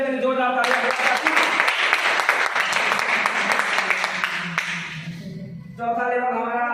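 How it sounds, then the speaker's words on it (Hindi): An audience breaks into loud, sustained clapping at a seminar, rising over a speaker's amplified voice, filling several seconds before fading as the speaker resumes talking. "एक बार इस गोल्ड लेवल के लिए जोरदार तालियां"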